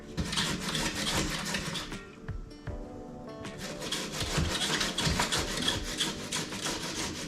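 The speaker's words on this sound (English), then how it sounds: "Grate your cucumber." A cucumber is rubbed against a grater in quick, repeated rasping strokes, close and fairly loud, with one brief pause partway through.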